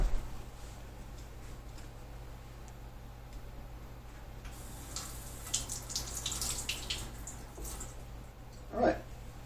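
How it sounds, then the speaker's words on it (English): Tap water runs steadily over a heated PVC blade being cooled. The flow is faint and even, with a brief brighter splash as the blade meets the stream. "now I'm going to go and cool it under the water again"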